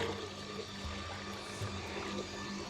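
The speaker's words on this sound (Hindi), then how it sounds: "देख ले मोटर चला के छोड़ दी यार" Electric water pump motor running steadily while water pours into buckets, a continuous rushing, even noise with no pauses.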